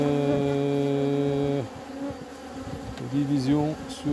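Honey bees buzzing around an open beehive, a dense close hum that drops and wavers partway through as the hive is handled and closed.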